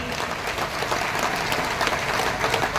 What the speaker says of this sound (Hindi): हमारे सभी ब्रांड पार्टनर्स के लिए एक बार जोरदार ताली